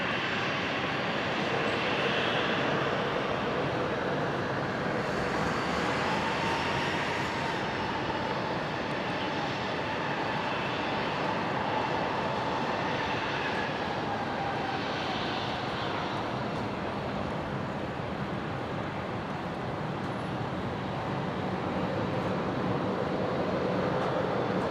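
An airliner takes off from runway 01 left at Brisbane Airport. Its engine roar is steady and broadband, loud and continuous for the whole stretch, with a faint whine over it and no voices.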